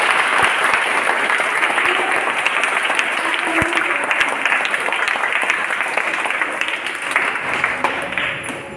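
Schoolchildren at a free uniform and school supplies distribution event applaud loudly and steadily, a dense sustained wash of clapping that fills the room for several seconds with no voices on top.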